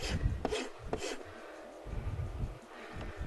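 A farrier's rasp files down the flared wall of a horse's hoof in steady, coarse back-and-forth strokes, close and fairly soft, with some low handling bumps mixed in.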